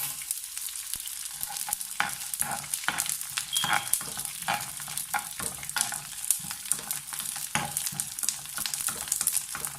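Edible gum (gond) fries in a pan over low heat, a steady crackling sizzle broken by repeated stirring scrapes and clinks, close and alone without talk.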